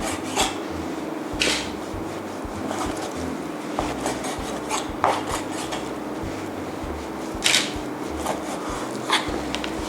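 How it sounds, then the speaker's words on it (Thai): A knife slices thin pieces of beef rump across the grain, making a steady series of soft rasping, scraping strokes on a board, with a few sharper clicks standing out from the continuous cutting noise. "วันนี้เล็กใช้เป็น เนื้อส่วนสะโพกนะคะ แล้วก็จะหั่นเป็นชิ้นบางนะคะ"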